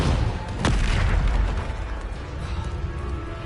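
Bombarda spell explosion in Hogwarts Legacy, a deep booming blast with a sharp crack just after the start, then a rumbling roar that slowly fades, loud and close.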